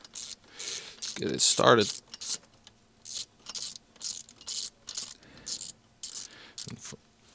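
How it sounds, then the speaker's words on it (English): A torque wrench tightens a bolt on an Alpine A290 during a frunk installation, giving a series of close, crisp ratcheting clicks in short bursts with pauses between them, plus a brief spoken line near the start. "I use a torque wrench, and this bolt needs to be torqued to 6 Newton meters."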